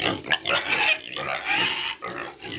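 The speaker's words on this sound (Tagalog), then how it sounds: "Itong mga durok na ito na may ingay." Several hungry piglets squeal and grunt noisily together, a continuous high-pitched chorus close by with no pauses.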